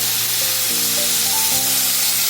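Loud, dense sizzling as a little water hits vegetables frying with turmeric in a pan for a Bengali chorchori, a constant close hiss with faint tonal whistles underneath.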